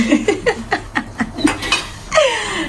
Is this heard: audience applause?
no